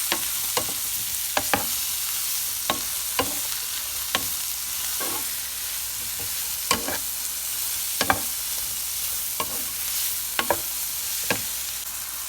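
Mushrooms frying in a pan for a spinach and mushroom omelette give a constant loud sizzle, with sharp clicks of a utensil stirring and scraping at irregular intervals.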